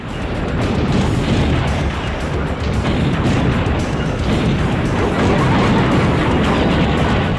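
Lightning strikes in the vehicular combat video game Twisted Metal 2, heard as a continuous loud roaring crackle of game noise and booming impacts that stays dense and unbroken throughout.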